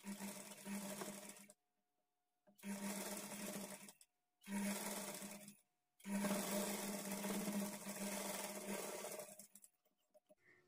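Sewing machine stitching blouse fabric and facing strip, running in four bursts of steady whirring with short silent gaps between them, close and alone without talk.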